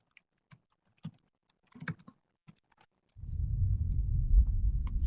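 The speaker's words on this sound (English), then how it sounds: "I'll type that in the chat box." Keys are tapped on a computer keyboard while typing into a chat box, a few sparse clicks close and clear in a quiet room, followed by a steady low rumble of background noise.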